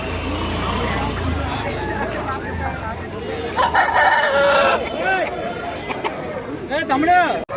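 Roosters crow repeatedly amid a noisy weekly poultry market of country chickens and fighting roosters, with overlapping clucks and chatter, and people talking nearby throughout.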